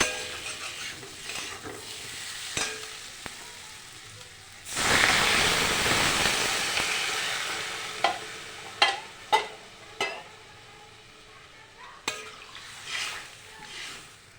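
Water poured into a pan of sizzling spiced potato masala sets off a loud burst of hissing and bubbling that slowly settles, followed by a few sharp clinks of a spoon stirring against the pan.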